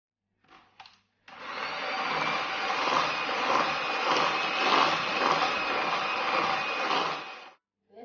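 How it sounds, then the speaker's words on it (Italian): An electric mixer blends cake batter after oil is added: a few brief clicks, then a loud steady whirring motor runs for about six seconds before cutting off, with no talk. "Mettiamo anche l'olio e continuiamo a frullare."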